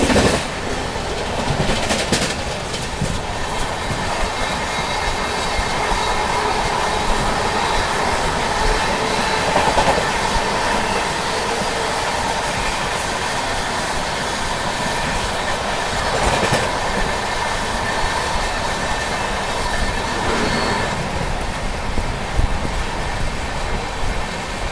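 Secunderabad Duronto Express running, heard from inside a sleeper coach: steady loud rumble and rattle of the carriage, with occasional sharper clacks of the wheels over rail joints and no talking.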